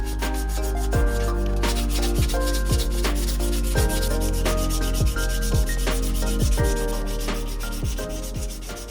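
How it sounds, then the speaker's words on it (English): Bondo body filler being sanded by hand on a car interior part, a loud, close, steady rasping rub in a continuous back-and-forth rhythm with brief scraping strokes, no voices. "let's start sanding it"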